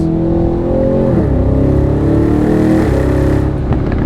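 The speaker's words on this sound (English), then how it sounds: "your exhaust sounds so great with the top down" Exhaust of a 2026 Aston Martin Vantage Roadster driven with the top down, a loud close growl that holds steady, then dips and climbs again as the engine revs rise and fall, with no talk.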